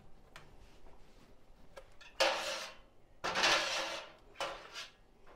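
Lid going onto a jar of zucchini pickle in a kitchen: a few faint clicks and taps, then three louder scraping, rattling twists of metal on glass, close by.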